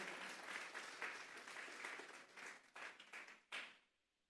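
A church congregation claps during a Sunday service, a dense close wash of applause that holds steadily, then thins into a few last bursts before stopping.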